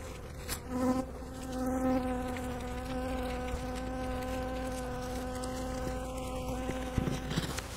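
Honeybees from a queenless hive swarm up around the beekeeper in a steady, close, loud buzz with layered droning tones, continuous throughout with no speech.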